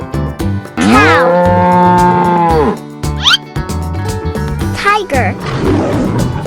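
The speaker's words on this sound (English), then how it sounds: "cow" A cartoon-style cow gives one long, loud, sustained moo, followed by shorter animal calls and playful effects over busy background music.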